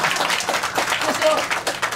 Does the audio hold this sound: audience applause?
yes